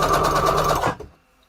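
A sewing machine runs a straight stitch on layered junk journal embellishments, a loud fast whirring burst for about a second that winds down and stops.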